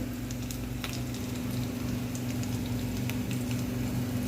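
Spices tempering in hot oil for a cucumber buttermilk curry crackle and sizzle steadily, with occasional sharp pops over a constant low frying hiss.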